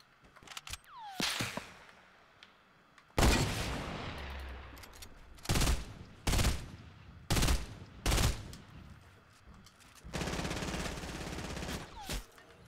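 Sniper and rifle fire in Fortnite, a series of loud, separate sharp cracks with ringing tails spaced a second or so apart, followed by a denser burst of shots, with no talking.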